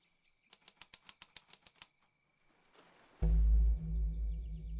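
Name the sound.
bird flapping its wings in the video game Tangle Tower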